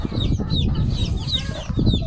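Close, busy clucking from chickens and a speckled rooster as they are hand-fed mulberries, with short overlapping calls in a brief burst.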